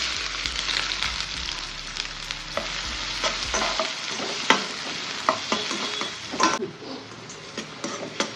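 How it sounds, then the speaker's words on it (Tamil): Finely chopped onion sautéing in hot oil with cumin and curry leaves, a bright, busy sizzle broken by repeated stirring scrapes and a few light clinks, close and fairly loud, with no talking. "வெங்காயம் வதங்கட்டும்"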